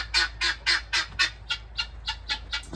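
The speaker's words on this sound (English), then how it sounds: "Stella is giving them guineas a fit." Guinea fowl squawk in a rapid, regular series of harsh, bright calls, about a dozen in under three seconds, fairly close and loud, while a dog chases the flock; no talking.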